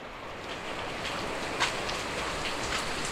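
Heavy rain pouring down in a steady, dense hiss with no pauses, loud and close, carrying a faint watery rush underneath and a single brief louder splash partway through.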